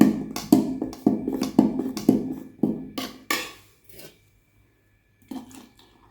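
Homemade hibiscus and shikakai shampoo pressed through a strainer, giving a run of rhythmic wet scraping and tapping strokes that stop, then a brief final scrape after a pause.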